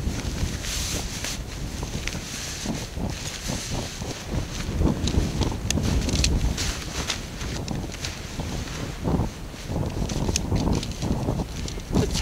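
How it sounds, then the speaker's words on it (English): Strong wind buffets the microphone on an exposed hilltop, a steady roaring rush with gusty surges and flapping bursts throughout, loud and continuous with no talk. "Bear in mind, it is a very windy day up here today."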